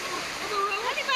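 Can-Umantad Falls in Candihay, Bohol, gives a steady broadband rush of falling water, briefly heard under a speaking voice.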